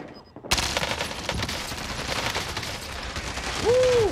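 Rapid bursts of video-game gunfire crackle continuously through a firefight after a brief quiet opening, with a rising electronic whine near the end; no talk over the shots.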